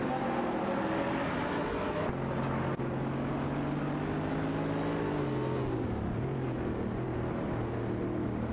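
Race cars in a racing video game roar continuously with steady engine tones that rise and shift in pitch through gear changes, loud and close throughout with no talking.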